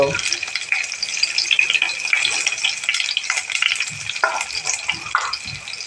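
Curry leaves and vegetables for a bottle gourd dish crackle and spit as they are stirred in a hot pan, a close, busy sizzle broken by scraping and rattling stirs.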